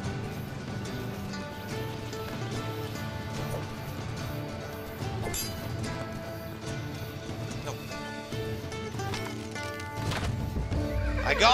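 Horse neighing and clip-clopping hooves in the Robin Hood Sherwood Builders video game, blended into dense game music and ambient effects that continue steadily, growing slightly louder toward the end.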